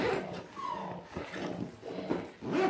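A pet dog whimpers and yips in a house as its owner gets ready to leave, with short whines and soft vocal bursts recurring throughout, fairly close and moderately loud.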